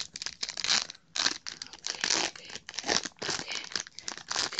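Plastic and cardboard of a Pokemon Platinum promo blister pack crinkle and tear close up in quick, irregular bursts as it is pried open.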